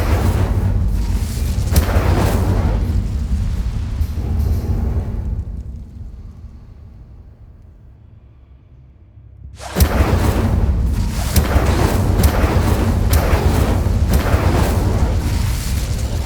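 Incendio fire spell cast in Hogwarts Legacy, loud booming bursts and whooshes repeating, a quieter lull midway, then dense blasts resume strongly.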